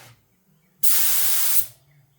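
A paint spray gun being set up fires a single, even burst of loud hissing spray, lasting under a second, with quiet moments before and after.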